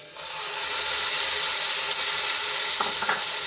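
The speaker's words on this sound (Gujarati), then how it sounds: "હવે લોટ તેલમાં સંતળાઈ ગયો છે તો એમાં આપણે બે મોટી સાઈઝના ટમેટાની પ્યુરી એડ કરી દઈશું" Tomato puree from two large tomatoes hits flour frying in hot oil and sets off a loud, steady sizzle, with a few faint stirring scrapes near the end.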